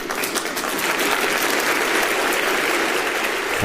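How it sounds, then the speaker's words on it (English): A roaring round of applause swells through a crowd, a dense, steady wash of clapping that holds at full strength and carries no speech. "deserves a roaring round of applause"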